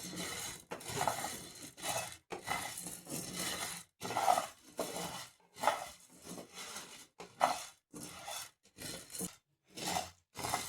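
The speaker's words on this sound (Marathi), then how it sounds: "मंद आचेवर साबुदाणा भाजून घ्यायचा आहे." Sabudana tapioca pearls dry-roasting over low heat in a kadhai, heard as repeated rough scraping and rustling strokes of a spatula in short bursts separated by brief pauses.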